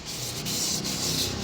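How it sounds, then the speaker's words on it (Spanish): Short strokes of sandpaper rub against an engine piston's ring groove, a close, steady scratchy rasping with a faint back-and-forth rhythm. "una vez que tenemos lijado"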